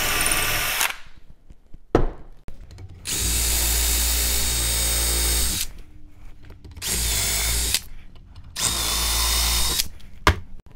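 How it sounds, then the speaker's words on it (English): A power drill whirs loudly in three long bursts, pre-drilling through three layers of wood, with short pauses and a few clicks and knocks between runs. "I'm gonna go ahead and now drill all four positions"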